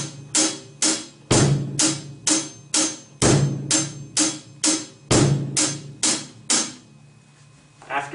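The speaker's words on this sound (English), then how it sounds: "So first, we might add your bass drum, and it would sound like this." A drum set plays a steady hi-hat beat with a bass drum kick added on every few strokes, giving deep thumps beneath the crisp cymbal ticks, close and without talk.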